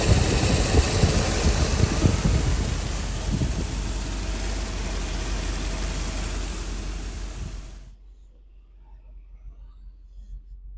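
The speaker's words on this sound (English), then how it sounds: "you are hearing the fan in addition to the big belt." A 1990 Mercedes-Benz 500SL roadster V8 idles steadily with its cooling fan running and the big drive belt whirring, a dense close rumble that cuts off abruptly near the end, leaving only faint background.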